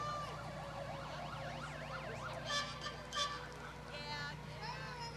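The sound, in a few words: ambulance siren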